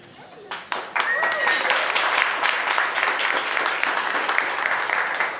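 A crowd at a charity walk kick-off event bursting into cheering and applause after an announcement, with steady clapping and whoops close by and an announcer's voice at the start.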